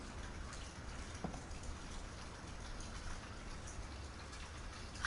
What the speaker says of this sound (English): Why is there rain noises up there when I walk down it's gone?